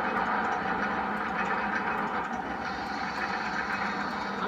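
A roller coaster train rumbles along its track in the Roller Coaster Tycoon video game, a steady mechanical clatter and drone, continuous and fairly loud with no voices over it.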